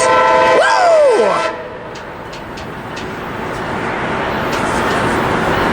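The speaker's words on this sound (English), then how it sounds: "Here comes the southbound Amtrak." A southbound Amtrak passenger train passes with a loud horn blast at the start, its tone bending downward, followed by a steady roar of rolling cars and faint rhythmic clatter.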